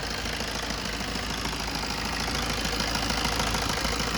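A Maruti Swift engine idles with a knocking fault attributed to connecting rod bearing or piston pin wear, giving a steady, close mechanical drone with faint repeating low knocks underneath.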